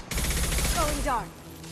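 Shotgun blasts in the Mass Effect 2 video game, a loud burst of gunfire mixed with game effects and a voice speaking over it, fading into a quieter tail.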